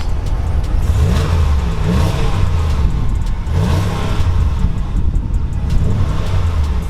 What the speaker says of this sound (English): go ahead and get a few revs